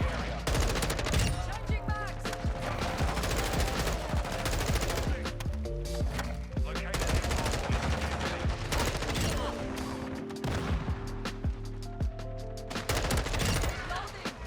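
An M4 rifle firing in the video game Modern Warfare 2, rapid automatic bursts repeating throughout, loud and close, mixed with other game effects.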